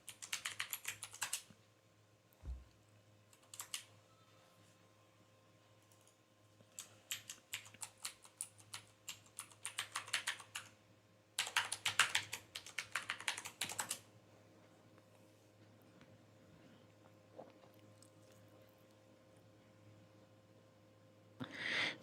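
Someone types a password on a computer keyboard, producing soft, close clusters of rapid key clicks with short pauses between bursts, alone in a quiet room.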